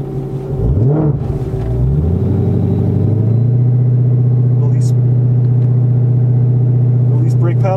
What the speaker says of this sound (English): Increase engine speed.